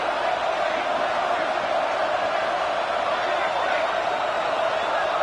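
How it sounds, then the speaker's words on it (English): Crowd noise fills a football video game stadium, a constant loud roaring wash of many voices with no distinct breaks. "listen to this crowd noise"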